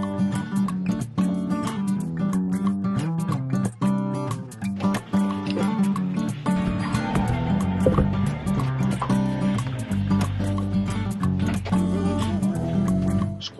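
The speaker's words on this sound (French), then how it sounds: "Allez, vidange du liquide de refroidissement." Engine coolant drains from a boat's cooling circuit in a steady gurgling, dripping flow close by, with clinks and knocks of handling throughout.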